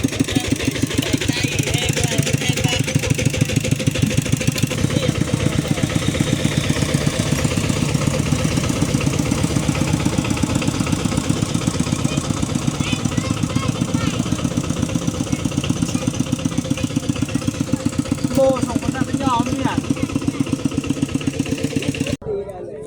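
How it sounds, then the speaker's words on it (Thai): Two-wheel tractor engines chug steadily throughout at a close, even idle, with occasional voices and background chatter mixed in at a rural Lao wedding. "2 คันรถไถไปดองมื้อนี้"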